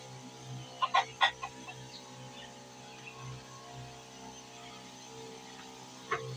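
Hens on a hen farm give a few soft clucks, a small cluster early and another near the end, quiet over a steady low mains hum.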